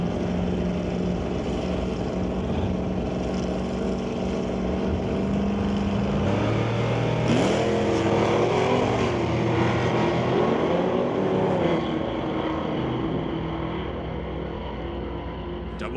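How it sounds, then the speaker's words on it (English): Engines of a Plymouth and a 1969 Ford Falcon roar at a drag race launch, a loud sustained drone that rises in pitch as the cars accelerate away, with faint talk beneath. "Plymouth of Matt Warner against John McLean with the Falcon Off Racing 1969 Ford Falcon"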